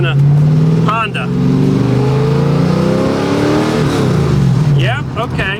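A 2011 Factory 5 GTM pulls out of a driveway with a loud, close engine note that rises and falls as it revs and accelerates, while people talk briefly at the start and end.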